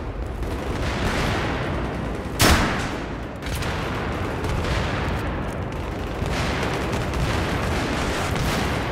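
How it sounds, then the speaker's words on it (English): Battlefield 3 multiplayer on the Operation Metro map, with continuous dense gunfire and explosions under a steady roar. A sharp, louder blast stands out near the middle, fitting a rocket launcher shot amid the fusillade. "Let's try a bit of rocket. See if we can just blast his way through everyone."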